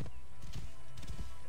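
A horse's hooves clip-clop on the ground in the Assassin's Creed Origins video game, a few uneven thuds over a constant ambient wash, moderately quiet and without speech.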